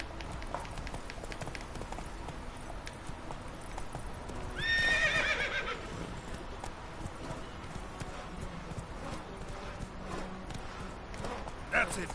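Roach the horse gallops with a steady clip-clop of hooves in The Witcher 3 and gives one loud neigh partway through, alongside game sounds and voices.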